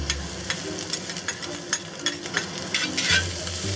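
Ginger, garlic and peppers are stir-fried with tofu in a pan over medium-high heat, a bright steady sizzle broken by repeated scraping tosses of a spatula, with no speech.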